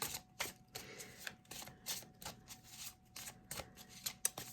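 Tarot cards being shuffled by hand, a quick run of crisp riffling and flicking bursts repeating in close, fairly quiet succession with no talking.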